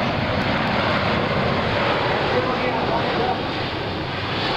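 A Boeing C-17 Globemaster III jet aircraft setting up for landing at Charleston Air Force Base roars steadily and loudly throughout, a broad constant engine wash with a faint voice beneath it.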